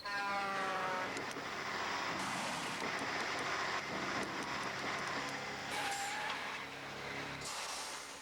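A Mack truck smashes into a Maglite flashlight in a TV commercial, with a loud, dense roar of engine and skidding tires running continuously through the clip, punctuated by sharp bursts.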